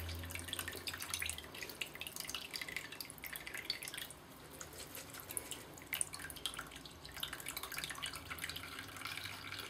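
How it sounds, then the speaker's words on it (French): Water draining from couscous through a small strainer in Algerian steaming preparation, a soft continuous trickle and dripping patter, close and faint, with no voices. "j'essaye de faire écouler toute l'eau se trouvant dans le couscous"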